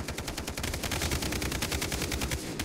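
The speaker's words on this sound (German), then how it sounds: "Da hinten wird doch schon wieder geschossen." Distant automatic gunfire in Far Cry 3, a steady rapid rattle of shots running without pause for several seconds, faint and far off.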